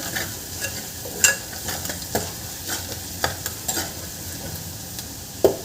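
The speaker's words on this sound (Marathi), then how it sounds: "हा घरगुती काळा मसाला हे आपल्याला छान परतून घ्यायचं आहे" Homemade black masala is sautéed in a pan for a Maharashtrian green peas curry, with a steady sizzle broken by repeated sharp scrapes and knocks of the stirring spoon.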